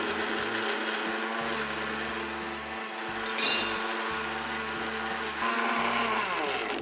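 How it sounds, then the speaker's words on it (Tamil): A Preethi Zodiac Cosmo mixer grinder running steadily as it grinds chillies and ginger into a fine paste, a loud close motor whine with rhythmic pulses and rattling from the jar. "ஒரு ஃபைன் பேஸ்ட்டாக அரைக்க போகிறோம். நான் இதை இந்த பிரீத்தி சோடியா காஸ்மோ மிக்சியில்"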